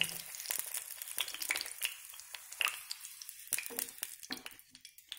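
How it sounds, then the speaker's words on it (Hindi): Whole eggs frying in hot oil in a kadhai for egg curry give a faint crackling sizzle with scattered sharp pops and clicks, close but quiet. "अंडे बिल्कुल फ्राई हो चुके हैं, अब हम इन्हें तेल कढ़ाई से बाहर निकाल लेंगे एक एक करकर।"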